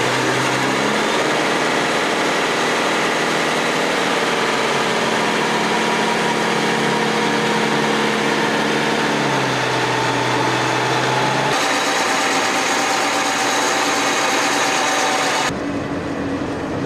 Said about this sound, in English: we'll have the engine running to help it get up here